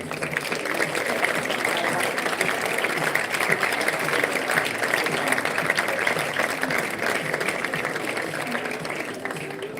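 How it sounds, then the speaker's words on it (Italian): Applause at a Veneto volleyball celebration for the Moco Volley Under 18 women's championship team, a dense sustained crowd clapping that runs evenly for about ten seconds with voices murmuring underneath. "un grandissimo applauso per lo scudetto Under 18 femminile di Moco Volley"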